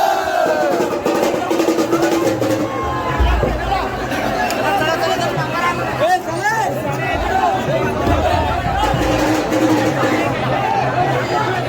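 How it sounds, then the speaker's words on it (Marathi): A crowd of devotees packs a market street around a palanquin procession at a temple fair in Mahad, with loud, continuous chatter and shouting and a low rumble beneath it. Clear talk rises above the din. "खूप गर्दी झाली जाम पालखी आल्यामुळं"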